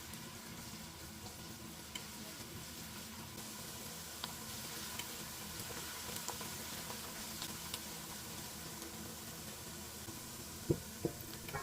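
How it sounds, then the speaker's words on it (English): Celery and basil sizzle steadily in a hot pot while being stirred for jollof rice, a soft continuous frying hiss with occasional light clinks of the spoon against the pot. "And then you go ahead and add your celery and basil. Stir again for another 1 minute."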